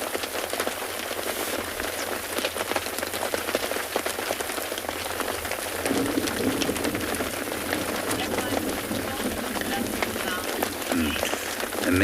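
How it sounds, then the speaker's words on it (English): Steady rain falls throughout a morning safari in the bush, a dense continuous patter of drops on surfaces that grows slightly heavier and closer partway through, with no voices over it. "many of you still commenting on the sound of the rain and how much you're enjoying it"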